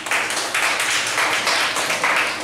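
Dense, steady applause from a conference audience welcoming a speaker at a civic technology forum in Taiwan; many hands clap continuously and loudly, close by, with no pauses.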